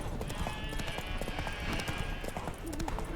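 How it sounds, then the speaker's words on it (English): A spooked horse in The Witcher 3 video game clops its hooves in a quick, steady clip-clop, close and fairly quiet, under low game ambience. "Spooking my horse."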